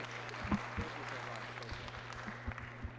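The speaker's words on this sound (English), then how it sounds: "Clap a little louder than that." Faint, distant audience clapping at a taekwondo event, scattered hand claps over a low hum with a voice heard in the background.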